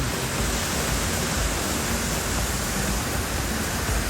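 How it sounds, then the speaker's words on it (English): A waterfall and small stream produce a continuous, loud, broadband rush of flowing water that stays steady throughout with no other sounds. "Beautiful place to come and relax and maybe take a bath in this waterfall."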